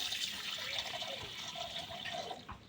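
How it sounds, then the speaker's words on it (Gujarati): A glass of water is poured onto sugar in a home kitchen, a steady soft splashing stream lasting a few seconds, fairly quiet and with no one speaking. "અને આપણે 1 ગ્લાસ પાણી નાખ્યું"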